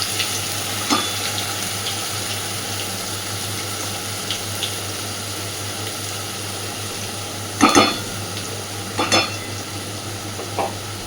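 Ground pointed gourd paste cooks in a pan over a lowered gas flame, a soft steady sizzle with a few sharper stirring scrapes and clatters standing out near the middle and end.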